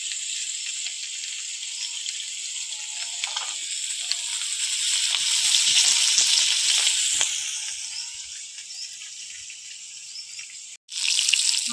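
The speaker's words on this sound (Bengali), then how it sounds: "মাছগুলো ভাজা হয়ে গেছে" Pieces of rohu fish fry in hot oil, giving a steady, bright sizzle that swells and fades over several seconds, then breaks off briefly before resuming loudly.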